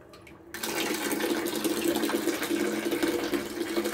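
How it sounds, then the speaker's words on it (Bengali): A bathroom tap is turned on after a moment of near silence, and water then gushes steadily and close, a constant splashing rush that carries on to the end. "বাথরুমে জলটা চালিয়ে রেখেই কিছুটা সময় চুপচাপ থাকে শুভ"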